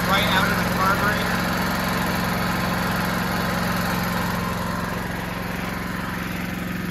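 A newly bought Energizer inverter generator runs steadily at close range, a continuous low mechanical hum with a faint buzzing rattle that eases slightly near the end.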